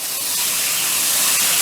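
Water sprays in a loud, steady hiss while dirt is washed out of the bottom of a unit during cleaning, a continuous rushing stream close by with no talking.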